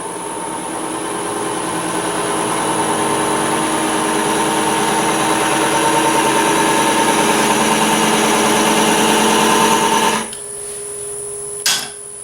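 A wood lathe tool cuts decorative texture into a turned wooden ring box, a steady loud whirring chatter for about ten seconds that stops abruptly, leaving quieter motor hum and one brief knock near the end.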